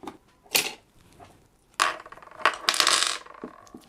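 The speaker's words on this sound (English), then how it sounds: "the first thing we want to do is to undo our 4 screws and remove the 2 plastic retainers" Small close clicks and plastic snaps as screws are undone and plastic retainers are removed from a motherboard, a few sharp bursts separated by quiet gaps.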